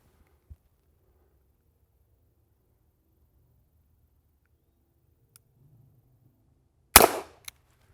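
Smith & Wesson Model 14 revolver firing its last shot during PPC-style target shooting, a single sharp loud crack after long near-silence, followed by a brief metallic click.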